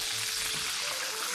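A roast fries in bone marrow in a pan, giving a steady, close hiss and crackle of sizzling fat with no talk over it.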